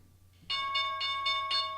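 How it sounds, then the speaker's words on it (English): The stock market opening bell rings close and clear, a series of about five bright, evenly spaced metallic strikes over a low steady hum, with no talking. "There's the bell."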